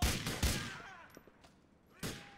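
Gunfire in the video game GTA IV, several sharp, loud shots in quick succession at the start, a few faint distant pops in the middle, and one more loud shot near the end.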